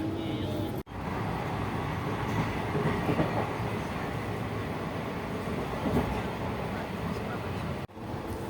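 A passenger train running on the Kolkata–Siliguri route, heard from inside as a loud, continuous rumble and rattle of the carriage on the tracks, with faint voices beneath.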